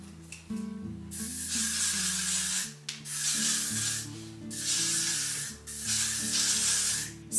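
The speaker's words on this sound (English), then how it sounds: "I'm just gonna hairspray that now." Hairspray hisses from an aerosol can onto blow-dried hair in three or four sustained bursts, each a couple of seconds long with short gaps, close and fairly loud over faint background music.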